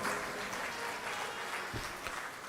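Audience clapping at a religious discourse gathering, a faint, even patter of many hands heard from a distance, steady throughout with no speech.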